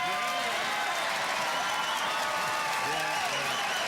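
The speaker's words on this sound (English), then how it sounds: "the longer you applaud, the shorter the monologue." A studio audience on a late-night talk show applauds loudly and continuously, a thick roar of clapping with some crowd noise, while someone talks over it.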